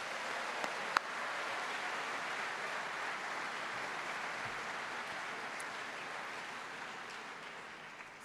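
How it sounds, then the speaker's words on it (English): Sustained applause from a large graduation ceremony audience at Bath Spa University's School of Art, Film and Media, a dense even roar of many hands heard from a distance, continuing steadily for over eight seconds. "giving another round of applause to all those joining us around the world on the live stream"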